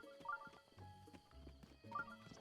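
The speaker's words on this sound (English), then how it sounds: "That is a horse." Horse in Breath of the Wild, soft snorts and short whinny-like calls mixed with light hoof clops, quiet and close, with no talk.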